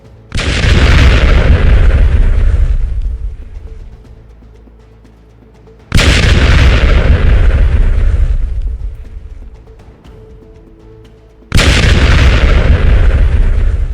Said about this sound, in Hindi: अचानक से जब बैलिस्टिक मिसाइल गिरती है तो आवाज आती है।